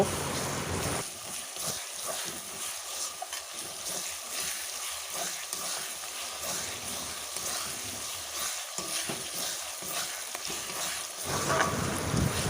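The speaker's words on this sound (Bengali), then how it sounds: "আদার পেস্টটাও দিয়ে বেশ কিছুক্ষণ কষে নেব" Onion, garlic and ginger paste being sautéed in a pan for chicken kosha, a soft continuous hiss with irregular stirring scrapes, fairly quiet and steady, no talking.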